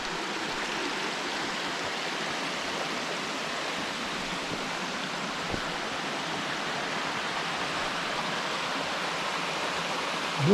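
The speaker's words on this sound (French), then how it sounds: "Avec la cascade qui descend tout droit" Waterfall cascading straight down at Combe Laval in the Vercors, a steady broadband roar of falling water that stays even and continuous throughout, with no voices.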